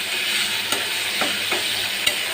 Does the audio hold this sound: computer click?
no